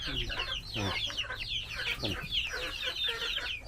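Ordinary farm chickens, mixed with fighting-cock stock and kept together with chicks, cluck and chatter close by in a dense, continuous jumble of calls, with some faint background noise.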